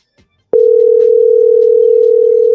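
A telephone dial tone while calling someone: after a brief silence, a loud, steady, unbroken tone sounds close up for about two seconds, then stops.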